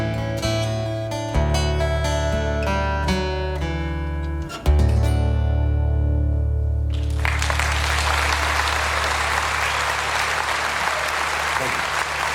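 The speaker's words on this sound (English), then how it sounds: "Tremendous applause there" A concert audience breaks into loud sustained applause after a song's final guitar chords ring out and fade, the clapping dense and continuous to the end.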